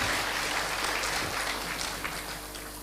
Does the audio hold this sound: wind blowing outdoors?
no